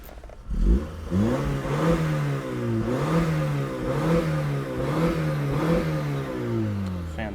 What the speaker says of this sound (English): let me go ahead and do some engine revs.